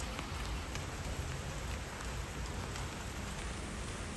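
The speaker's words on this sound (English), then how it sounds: "I wanted to go out because I saw it was raining" Steady rain falls outdoors, a continuous dense hiss of drops with soft patter on surfaces, no voices.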